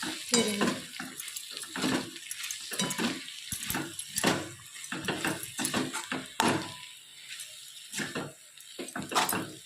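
Soaked kurdai get stirred around a frying pan, giving uneven scrapes and clatters of a utensil against the pan over a soft sizzle, with bursts coming every second or so.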